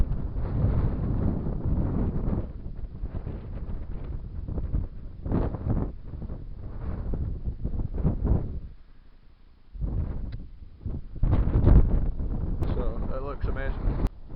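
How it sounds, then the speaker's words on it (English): Strong wind buffets the microphone on an open hilltop in Scotland, a steady loud roar that dips briefly near the middle, with someone talking over it in places. "The wind up here is unreal"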